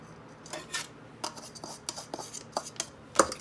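A knife scraping and cutting off pieces of frozen raw brown sugar, giving a series of short dry rasps and scrapes with a sharp click near the end, fairly close and alone.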